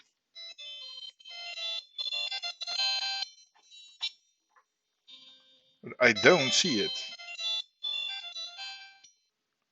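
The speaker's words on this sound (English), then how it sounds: "Oh, it's ringing." A homemade M5-based mobile phone rings during a test call, giving repeated bursts of a bright electronic ringtone with short gaps, while someone talks briefly in the middle.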